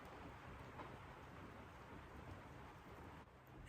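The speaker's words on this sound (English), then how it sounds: "it's raining." Steady rain falls outdoors in Northern California, a dense continuous hiss of drops with a low rumble beneath, quiet and unbroken with no talking.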